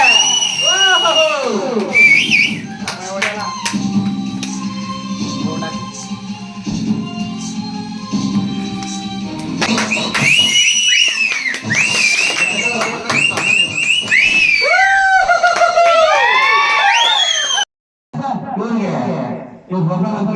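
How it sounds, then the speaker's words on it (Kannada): An audience on the Kannada TV show Sa Ri Ga Ma Pa whistles and claps, with loud, repeated rising-and-falling whistles over cheering and voices and a brief drop-out near the end. "ಚಪ್ಪಾಳೆ ಚಪ್ಪಾಳೆ."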